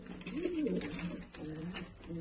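Pigeons coo softly in low, rolling calls repeated several times, close by, over a steady background hum.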